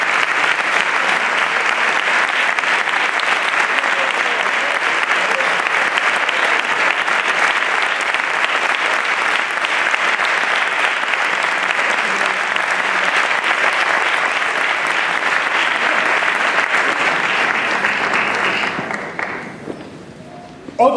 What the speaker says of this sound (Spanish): un fuerte aplauso también para Susana y este merecidísimo reconocimiento de todos nosotros